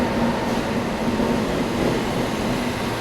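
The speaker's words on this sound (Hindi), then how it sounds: "अभी अराइवल हो रहा है यहाँ पे मुंबई CSMT नागपुर दुरंतो, नागपुर नहीं सॉरी, मुंबई हावड़ा दुरंतो एक्सप्रेस" The Mumbai–Howrah Duronto Express pulls into a station, a loud, continuous broadband rumble of rolling coaches with a low steady hum, close by and without pause.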